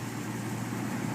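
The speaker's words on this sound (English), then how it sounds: "It's idling at a decent idle, about 750 once it settles down." A rebuilt 4.7L HO V8 in a 2002 Jeep Grand Cherokee idles smoothly and steadily near 750 rpm, a constant low hum heard close up with no talking.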